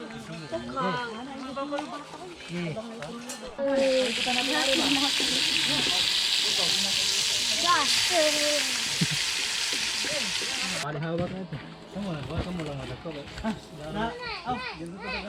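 Chicken frying in a pan at an outdoor home cooking session with several dishes on the go, giving a steady broad sizzle for several seconds, with children playing and people talking around it.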